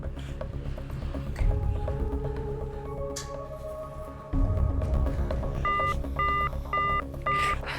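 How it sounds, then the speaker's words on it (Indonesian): Phone keypad tones beep one after another over a low background hum, several short dialing tones in quick succession. "Aku coba telepon Kamesha."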